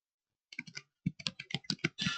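Keys on a computer keyboard are tapped in a short, close burst of about a dozen distinct clicks, ending in a quick flurry of strokes, with no voices.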